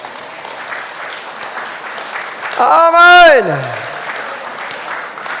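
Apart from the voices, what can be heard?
church congregation applause, only front rows clapping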